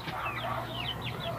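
Rhode Island Red and native chickens cluck softly at a coop at feeding time, in a short, close burst of clucks.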